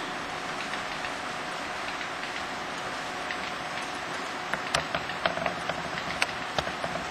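A model freight train runs along a plywood layout with a steady, hissing rumble of wheels on track, and light clicks of rail joints pick up near the end.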